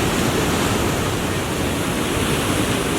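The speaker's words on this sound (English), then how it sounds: "See that cascade of water rushing down?" Bridal Veil Falls at Niagara Falls pours down as a dense, steady roar of rushing water, loud and unchanging throughout, with no voices.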